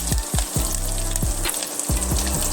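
Dried red chilies and curry leaves sizzle in hot oil in a pan with cumin, a loud steady frying crackle broken by a few stirring scrapes, no voices.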